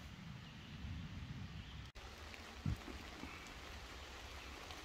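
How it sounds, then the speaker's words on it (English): Steady rain falling on a street in New York, a constant even hiss that stays moderately loud throughout, broken by one brief dropout and a short low thump, with no voices. "Today is my first rainy day, you can probably tell."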